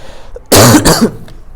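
A sharp double cough close up, two quick bursts in a row, with quiet around it.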